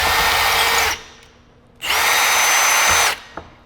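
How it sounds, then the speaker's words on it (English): A power drill runs in two steady whining bursts, about a second each with a brief pause between them, as it bores through an aligned rivet hole in metal sheet in a metal shop, close and loud, with no talk. "you grab your drill bit again, and you just drill through one hole into the other one"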